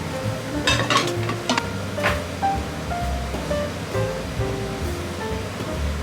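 Noodles and an oyster, garlic sprout sauce stir-frying at once in two frying pans, a steady close sizzle and hiss with scraping and clinking of utensils throughout.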